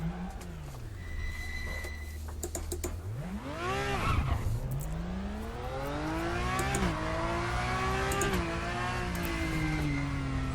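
A race car in the Raceroom racing game revs and slides around a circuit, its engine note climbing and dropping in repeated sweeps between gear changes, with tire squeal as it skids, loud and without talk.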